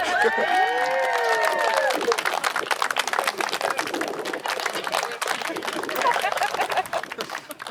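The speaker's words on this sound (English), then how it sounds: "I want to hear the biggest applause you can, everyone" Wedding guests at a ceremony break into applause and cheering, dense clapping with whoops from a gathered crowd, under a loud voice speaking over the noise at first.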